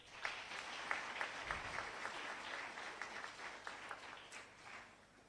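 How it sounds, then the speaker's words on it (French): An audience applauds a panel on cybersecurity threats at a conference, steady sustained clapping from a large crowd filling the room, moderately loud and continuous with no talking. "Nous allons vous demander à nouveau donc de les acclamer"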